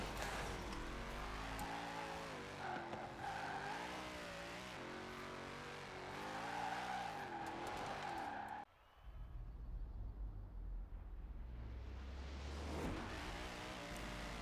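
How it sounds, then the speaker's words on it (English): A hypercar in a Forza Horizon 4 sprint race revs hard and launches off the line, its engine note climbing through gear changes before a sudden cut and a fresh surge of rumbling acceleration. "So we're now launching the car, and as you can see, it's a little bit squirrely off the line."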